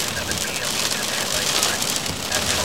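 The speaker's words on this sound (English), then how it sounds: "Getting dime-sized hail with this, a wind gust of 33 miles an hour with the max." Heavy rain from a slow-moving supercell near Athens, Michigan, with dime-sized hail and gusting wind, pours as a dense, steady roar without breaks.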